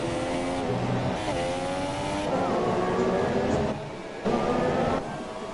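F3 race car engines in a racing video game drone loudly and steadily as the cars run on track, with pitch sweeps as they rev and shift, continuous for the whole stretch.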